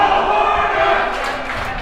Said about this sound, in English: A cheer breaks out in the stands.